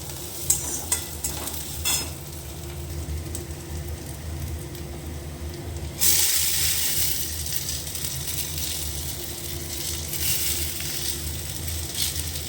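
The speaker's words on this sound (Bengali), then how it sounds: "আবার এখানে কালো জিরা ফোড়ন, লঙ্কা, পেঁয়াজ, রসুন সব দিয়ে ভাজছি।" Nigella seeds, chili, onion and garlic frying in a pan, a soft steady sizzle with scraping stir strokes, then a louder, brighter burst of sizzling midway that keeps going to the end.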